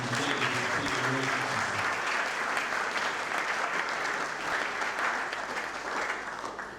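An audience at a fiftieth-anniversary colloquium claps steadily for nearly seven seconds, a dense sustained roll of hands that fades slightly toward the end, with a brief murmur of voices at the start.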